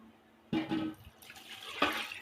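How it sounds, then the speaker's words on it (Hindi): Water is poured from a tap or vessel into a pot of rice for beef biryani, two close splashing pours separated by a short pause, no talking. "अब हम इसमें पानी ऐड करेंगे।"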